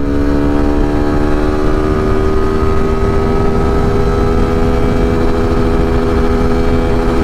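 A 2024 Suzuki V-Strom SX250 motorcycle engine runs loud and steady at high revs while riding through the gears, a continuous close drone with even harmonic tone throughout and no talking.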